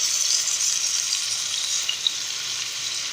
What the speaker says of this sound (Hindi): 6 से 7 मिनट हम इसी साइड पे इसे फ्राई करेंगे